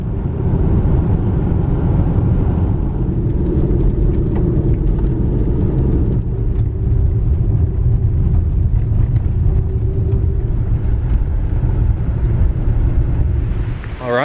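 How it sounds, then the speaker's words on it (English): SUV driving, a steady loud engine and road rumble inside the vehicle continuing without break, no talk. "Let's get back in the car and go to our next destination"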